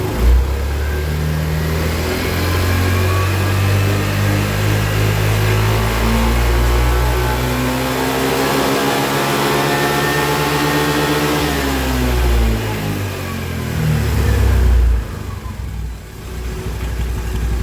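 A car engine is revved hard while its charging voltage is being checked, climbing and falling in a loud, sustained roar with no talking.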